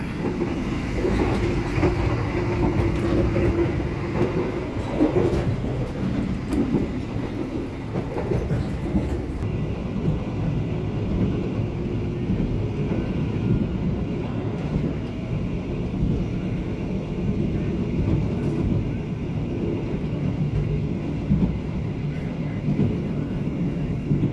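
A steady rumbling ride heard from inside an economy carriage of Indonesia's Mataram passenger train, with rhythmic clatter of wheels on rails and a constant low hum.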